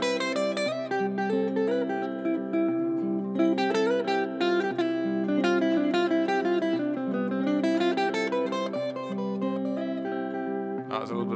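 Guitar played melodically through the C Ionian mode, with a run of clear, sustained plucked notes and a few chords over about eleven seconds, close and steady in volume with no voices.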